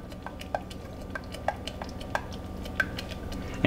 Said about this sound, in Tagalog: Pagkatapos, haluin lang natin mabuti uli